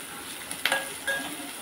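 Onion and coconut frying in a pan for a coconut chana dal dish, a steady close sizzle with brief stirring scrapes and clinks partway through.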